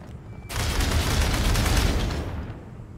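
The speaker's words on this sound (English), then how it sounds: "Another one sacrificed to the pulse cannons." Pulse cannon fire from Aliens: Dark Descent bursts in suddenly as a dense, loud, rapid barrage of automatic shots, holding for about two seconds before tapering off, with no talking over it.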